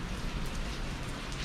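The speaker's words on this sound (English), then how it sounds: "a typical evening in Costa Rica when it starts to rain" Steady rain falls through a Costa Rican evening, a dense, even hiss of drops on surfaces with no break, fairly close and moderately loud, with no voices.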